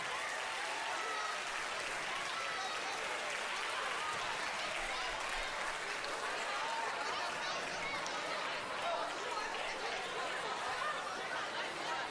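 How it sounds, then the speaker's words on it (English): Sustained applause at an 8th grade moving-on ceremony, steady and somewhat distant, mixed with crowd chatter and a few chuckles underneath. "We can give them a round of applause, too."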